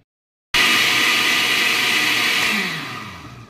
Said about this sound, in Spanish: Simplemente van a mover y ustedes van a ver que enseguida se va a licuar.